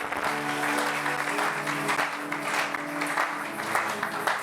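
A church congregation at a worship service applauds together, with sustained dense clapping that fills the room, while a voice and music carry on faintly underneath.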